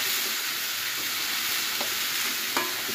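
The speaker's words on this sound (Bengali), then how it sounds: "ডালটা ধুয়ে এদিকে বসিয়ে দিয়েছি। এই দেখো ভাজা ভাজা করে নিচ্ছি" Washed lentils fry in a pan for khichuri, giving a continuous close hiss and sizzle with a few light stirring clicks.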